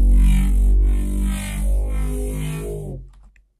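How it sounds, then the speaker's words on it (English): Reese-style synth carrier patch from FL Studio, heard dry with effects off: a thick, detuned sustained bass drone with slowly swirling, phasing harmonics that holds steady, then fades out near the end, with no talking. "that's basically what the carrier sounds like. It's like a Reese."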